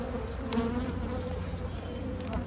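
Honey bees swarm around an open hive during an inspection, a dense, continuous buzzing close to the microphone with individual bees droning past at varying pitches.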